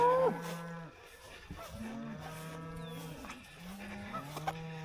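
Cattle on a farm mooing, long low drawn-out calls that overlap and follow one another at close range, with a faint higher call and steady outdoor background, no talking.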